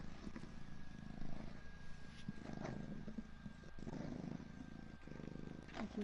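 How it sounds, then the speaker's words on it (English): Low, rumbling purr from a cat in a video game, continuous and steady over ambient game noise, with scattered faint clicks and a brief swell partway through. "I can hear the purring."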